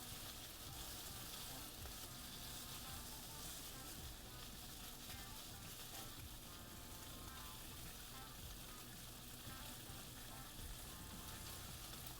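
Butter frying in a pan in the Chef Life restaurant simulator game, a steady bed of sizzle and crackle running continuously at moderate level with no pauses.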